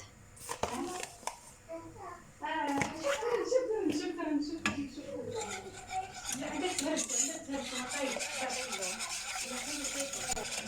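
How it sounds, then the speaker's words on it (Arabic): A utensil stirs and scrapes lemon pastry cream in a pot in a steady, rhythmic motion at close range, while a voice talks over it. "غادي نستمر البنات في التحريك حتى عقاد الخليط"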